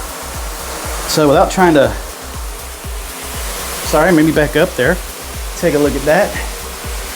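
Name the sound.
filtered shower head spraying fine water mist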